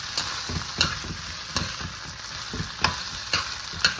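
Food sizzling in a hot pan with a steady frying hiss, broken by periodic scrapes and clacks of a spatula stirring, loud and close.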